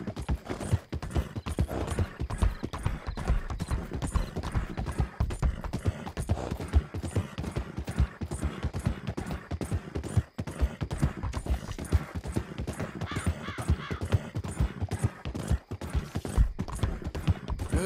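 Steady rhythmic clip-clop of a horse's hooves trotting in Red Dead Redemption 2 for the whole stretch, brisk and even, with no voices over it.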